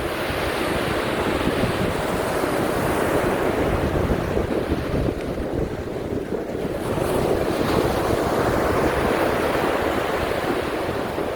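Loud, continuous surf rolls and breaks on the shore at Serenity Beach, Pondicherry, with heavy wind rumbling across the microphone throughout.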